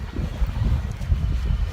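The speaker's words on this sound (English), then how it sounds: "It's windy." Low rumbling wind in Edinburgh buffets the microphone in uneven gusts, a muffled blustery roar up close.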